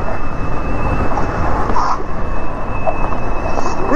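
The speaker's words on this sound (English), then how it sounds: "It's pouring rain." Heavy pouring rain during a ride on a Daymak e-bike, heard as a loud, steady broadband hiss and rumble, with a faint high electric whine running beneath it.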